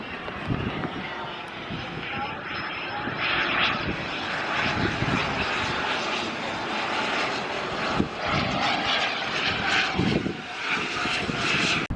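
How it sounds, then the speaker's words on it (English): Propeller airplanes flying overhead near the museum ship William G. Mather, a steady loud engine drone filling the whole stretch with slight swells as they pass. "So many planes."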